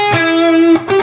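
Distorted electric guitar playing a short pedal-tone lick, with sustained saturated notes and a quick change of note near the end, loud and upfront.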